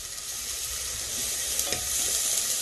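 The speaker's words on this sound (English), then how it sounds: "saute my onions in my pan." Onions saute in a pan with a bright, continuous sizzle that swells slightly toward the end, marked by a faint scrape or two of bamboo tongs.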